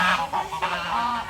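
Geese in an aviary in Daman honk several times in quick succession, loud and close, with nasal calls overlapping one another.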